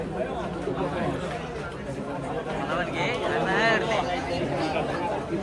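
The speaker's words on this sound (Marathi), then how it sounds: "गर्दी बघा गर्दी सोन्यासमोर" A dense crowd gathers around the famous bull Sonya 5050 at an outdoor showing, producing a steady, loud hubbub of overlapping voices and chatter throughout, with excited voices rising briefly near the middle.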